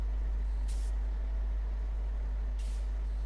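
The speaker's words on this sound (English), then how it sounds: "Every time you can hear that psh, like the air, not brakes, but whatever." Air hiss from an ANK MK38 truck in SnowRunner as its wheels leave the ground; two short sharp psh bursts over a constant low engine drone.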